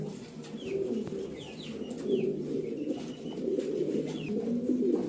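White Danish pigeons coo softly and repeatedly while nesting on eggs, a steady low burbling close by, with a few faint chirps from other birds in the background.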